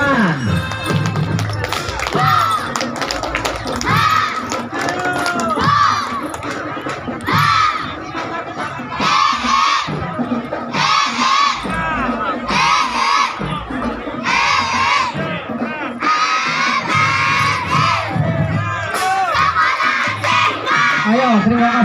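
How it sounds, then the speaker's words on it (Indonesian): Crowd at a 17 August Independence Day carnival in Ketanggungan, Brebes, cheering and shouting in repeated bursts with scattered clapping, loud and busy, voices of children and adults mixed, around a school marching band performance. "Tepuk tangan."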